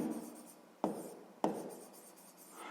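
A pen writing out a math exercise by hand, a soft continuous scratching on paper broken by two sharp taps, close and quiet with no talk.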